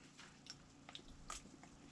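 A person chews bread, producing faint, close, irregular bites and moist crunches scattered over a quiet background, ending in a sudden louder knock.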